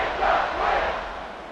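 A stadium crowd in the College Football 26 game, Oregon against Oregon State, buzzes as a dense, steady roar of cheering that swells slightly and then holds.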